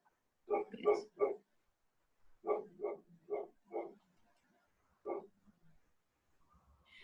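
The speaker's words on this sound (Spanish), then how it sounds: "está la perra ladrando" A female dog barks several times at a distance, in short clusters of two to four barks separated by pauses, fairly faint and with no talk over it.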